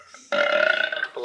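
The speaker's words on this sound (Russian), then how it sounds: "Отрыжка." A recorded burp plays from a science museum sound exhibit, one long, loud, throaty belch lasting about a second, with a brief sound following it.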